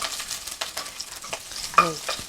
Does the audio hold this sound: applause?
no